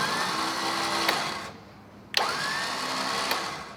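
A Warn winch on a 2021 Ford Bronco spooling out nylon braided rope, a steady electric motor whine with a short pause in the middle before the motor starts again.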